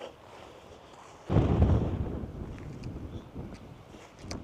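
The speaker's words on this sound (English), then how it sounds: "it's really windy" Strong wind buffets the microphone, a sudden loud gust followed by a steady rushing roar.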